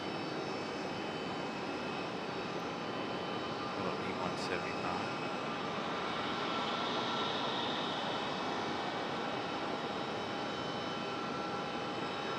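JetBlue Embraer E190 jet arriving to land at Raleigh-Durham airport, a steady broad engine roar heard from outside, holding at a fairly even level throughout.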